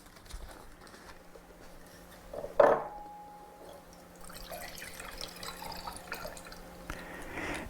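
Distilled water is poured into a beaker for a distillation demonstration: one sharp splash, then quieter liquid sounds trailing off in a calm room.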